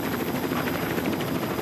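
Helicopter in a military action movie, a steady broadband rotor and engine roar holding evenly throughout, loud and close with no talk.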